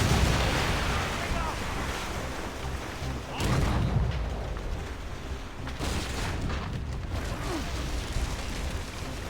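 Broadside cannon fire from the ship Morrigan in Assassin's Creed Rogue, heavy booms landing over a steady rush of sea and wind, with one strong blast early and further thuds later amid shouted crew voices.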